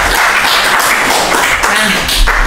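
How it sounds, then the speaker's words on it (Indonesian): Audience applause at an Indonesian military forum on the Kodam XV/Pattimura intelligence assistant, a dense, steady patter of many hands clapping throughout, loud and close. "kita beri tepuk tangan dulu buat Asintel"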